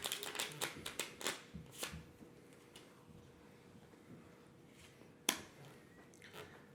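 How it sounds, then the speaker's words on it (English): Playing cards are shuffled by hand during a magic show, a quick run of crisp riffling and tapping bursts followed by a quieter pause and one sharp snap, soft and close. "Go ahead and shuffle the cards up."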